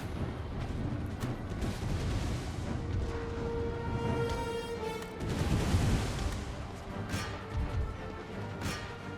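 Battle sounds from a Prussian-wars strategy game with Austrian forces: a continuous din of booming explosions and crackling musket fire, with a heavier burst midway, dense and loud throughout without talk.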